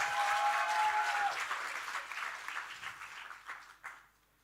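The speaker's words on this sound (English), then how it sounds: "can we give her a big round of applause?" Audience applause at a national grand final event, a full burst of clapping with a whistle near the start, tapering off and ending abruptly.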